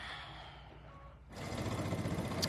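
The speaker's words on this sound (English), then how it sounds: "So I'm just gonna sew." A sewing machine stitching a quarter-inch seam on a strippy table runner kicks in after a quiet start, then runs as a steady close whirring hum.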